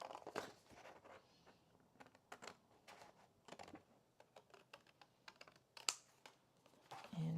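Paper being cut into rectangles for scrapbooking journaling boxes, giving a series of short, soft crisp snips and rustles at close range with no talk.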